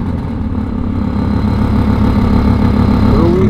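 A deep, rumbling Lamborghini Murcielago engine with aftermarket exhaust idles and grows louder, a thick low growl with rattly texture, close by and without speech.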